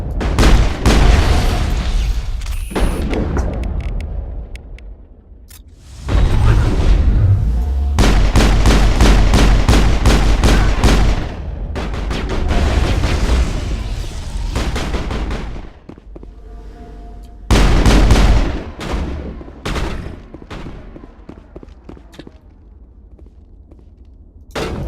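Shotgun gunfire in the video game Mass Effect during combat, loud repeated blasts in bursts with rumbling booms between them and brief gaps of quieter ambience.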